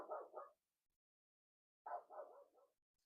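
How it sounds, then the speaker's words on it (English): A dog barks nearby in a quiet room: a quick double bark, a pause of over a second, then a longer run of two or three barks trailing off. "My dog is barking."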